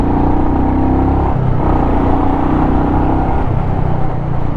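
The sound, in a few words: Royal Enfield Meteor 350 engine and exhaust revving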